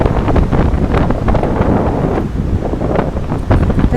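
Gusty wind blowing outdoors on a bright, sunny morning, a steady loud roar with rumbling buffets against the microphone throughout, no voices.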